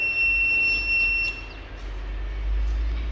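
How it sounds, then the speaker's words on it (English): A steady high electronic buzzer tone sounds for over a second, then cuts off, leaving a low rumbling background hum. "that is how the buzzer blows off."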